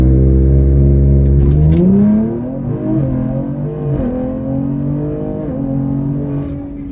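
Ford Explorer ST leaves hard off the trans brake, a loud, steady held engine note jumping into a rising rev sweep, then climbing through several gear changes as it pulls away, with no voices over it.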